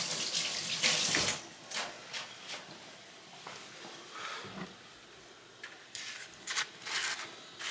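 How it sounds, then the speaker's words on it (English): Hands rinsed under a running kitchen tap while fried catfish is being prepared; water splashes in uneven bursts, loudest early on, then trickles and spatters on and off. "get my hands rinsed."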